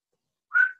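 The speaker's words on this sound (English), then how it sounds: "Can you stop whistling?" A person whistles a single short, clear note, alone and close, after a moment of silence.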